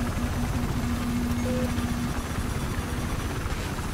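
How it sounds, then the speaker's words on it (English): A helicopter in Battlefield 4 approaches with a steady rotor and engine drone, moderately loud and continuous, with no voices over it. "Okay, now let the chopper come."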